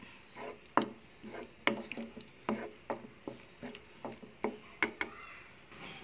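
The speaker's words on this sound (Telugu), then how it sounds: "ఒకసారి బాగా మిక్స్ చేసుకుందాం" Ridge gourd and prawn curry being stirred in a pan with a spoon, giving soft irregular scrapes, taps and wet squishing sounds at moderate level with small clinks scattered throughout.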